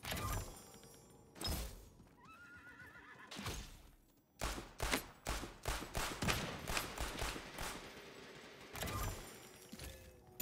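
Gunfire in an Xbox One video game: a series of sharp, loud shots, a few spaced apart and then a rapid irregular volley, with no talk.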